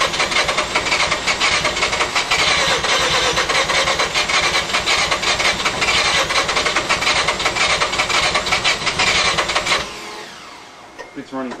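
A Bridgeport-ported turbocharged Mazda RX-7 rotary engine cranks and runs in a loud, dense, rattling roar close by, then drops abruptly to a quieter rough idle near the end, with voices mixed in.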